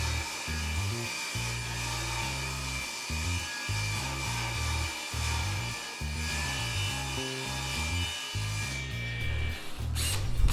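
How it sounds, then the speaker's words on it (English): A power drill drives screws to fasten a runner onto melamine, a loud buzzing whir with low choppy pulses that start and stop repeatedly, steady throughout with a brief sharper noise near the end. "what I'm doing is I'm screwing down a runner on the other side"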